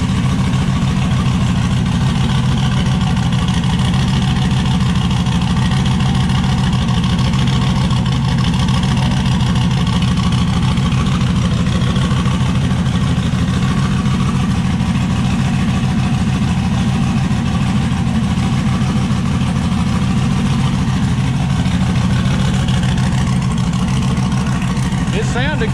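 A turbocharged Chevrolet S10 pickup engine runs steadily at close range, a constant low rumble with a faint high whine above it and no break across the whole stretch, while a voice talks over it.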